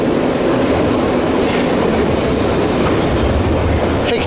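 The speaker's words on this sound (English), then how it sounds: "Take the old school underground, Piccadilly line," A London Underground Piccadilly line train runs at speed, a loud steady roar with rattling wheels on track and a faint squeal near the end, heard from inside the carriage.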